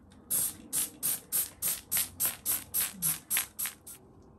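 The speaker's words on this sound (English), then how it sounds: "I'm just going to spray these bristles with some antibacterial spray" An antibacterial spray bottle is pumped about eleven times onto the brush bristles of a Numatic Henry vacuum cleaner, in a quick, even rhythm, each short hissing burst of mist close and clear.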